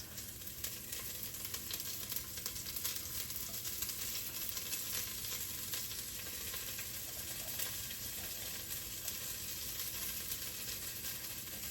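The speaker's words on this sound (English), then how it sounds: "you're gonna put your onions in here" A sliced yellow onion fries in a pan with a steady, even sizzle, lasting for several seconds with faint stirring scrapes and no talking.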